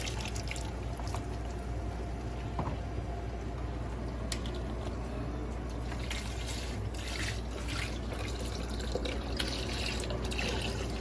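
Chicken broth poured from containers into a cooking pot where a reduction for Asian-style brisket simmers, a steady liquid pour and trickle running continuously at moderate level without talk.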